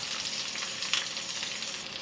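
Onion frying in hot oil with mustard seeds, split urad dal and curry leaves, a steady bright sizzle with a brief crackling spike near the middle, close and alone.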